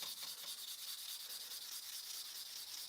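Sandpaper rubs steadily against a Grunewald tobacco pipe, a continuous close hissing rasp with fast back-and-forth pulsing and no pauses.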